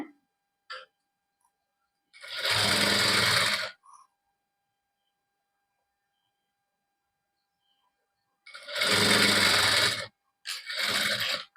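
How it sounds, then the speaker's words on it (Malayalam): A sewing machine stitches fabric for a cap in two loud close bursts of rapid whirring, a short run near the start and two longer runs later, separated by quiet pauses. "നമ്മളിതാ ഇതുപോലെ സ്റ്റിച്ച് ചെയ്തെടുക്കുകയാണ്"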